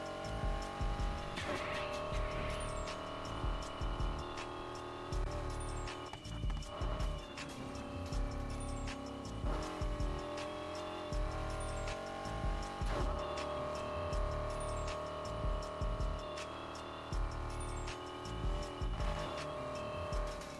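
A muscle car in the racing game Need for Speed Heat drives hard and brakes with the e-brake. Its engine revs in repeated surges and its tires squeal, all layered over steady tonal game sound.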